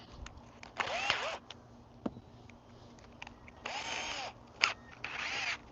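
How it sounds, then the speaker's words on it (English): Power drill fitted with a 9/64 drill bit boring a pilot hole for a deck screw during deck stair repair, with several short whirring bursts of drilling separated by pauses and a few small clicks and knocks, close and fairly loud. "We're going to go with a 9/64 for this screw right here. That's what we're going to use, a 9/64 drill bit."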